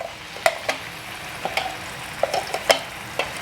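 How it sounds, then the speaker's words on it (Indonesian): Leftover spice paste stir-frying in oil for beef serundeng, a soft steady sizzle broken by scattered metallic clinks and scrapes of a utensil against the pan, close and unaccompanied by talk. "Ini saya tumis bumbu yang sisanya tadi ya"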